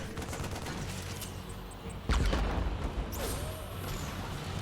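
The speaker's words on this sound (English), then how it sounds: "a couple tank hits eaten here" Siege tank shots in StarCraft 2 land on units, a sudden heavy impact bursting midway through a muffled game battle, followed by fainter crackling hits.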